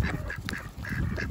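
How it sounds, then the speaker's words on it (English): Pet ducks quack in short nasal bursts while feeding on greens, several calls close by over a low rustling, munching backdrop. "Now, the ducks don't eat their own eggs, but they do love greens."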